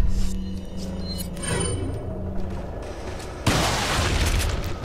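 Gunfire in the video game Resident Evil 4, booming in-game shots and a loud blast near the end over a busy game soundscape, with no talk.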